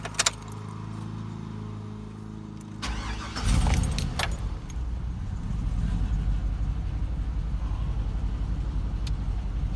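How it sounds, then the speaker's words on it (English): Keys jangle on a Hummer H2 truck, then the engine cranks and starts around the midpoint, settling into a steady, close idle rumble that runs to the end. "hopefully I'm going to start the truck and not make a liar out of myself"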